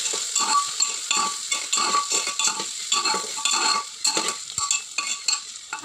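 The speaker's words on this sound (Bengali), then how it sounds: "আলুগুলো দিয়ে একটু নাড়াচাড়া নিলাম" Potatoes stirred and fried in a pan for a Bengali koi fish curry, with a steady close sizzle and rhythmic scraping of a spatula against the pan.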